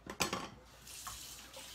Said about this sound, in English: Throw some water on it just so that paste does not dry on that silk screen area.